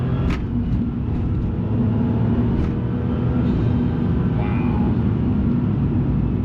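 A 1998 Porsche 911 Turbo (993) accelerating hard in third gear, its engine a steady, loud low drone filling the whole stretch with little change, heard from inside the car.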